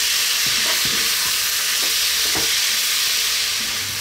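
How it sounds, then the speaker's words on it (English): Chicken and broccoli stir-fried with oyster sauce in a hot pan, a constant loud sizzle broken by repeated scraping stirs and clinks of the utensil, with no talking. "So just for like 1 minute now, stirring, get a nice coating of that everywhere."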